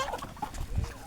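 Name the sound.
chickens clucking while being fed maize bran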